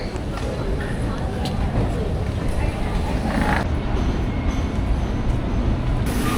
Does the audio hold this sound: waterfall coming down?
no